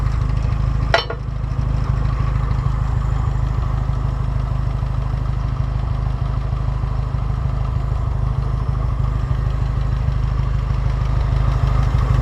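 A Hobart L134 Go-Devil welder engine idles close by in a steady, loud, even chugging drone, with a single sharp click near the start and no talk.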